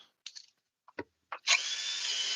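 A power drill drives screws into a 1x4 board, with a few short clicks and taps before the motor starts and then whirs steadily and loudly to the end.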